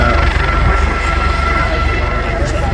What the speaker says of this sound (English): There we go. Engines are powering up.